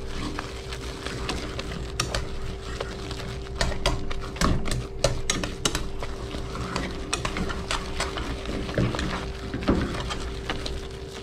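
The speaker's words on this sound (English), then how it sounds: "I'll take the whisk and get it even smoother by adding in the butter" Wire whisk working butter into mashed potatoes, a steady run of soft wet clicks and scrapes against the bowl under a constant background hum.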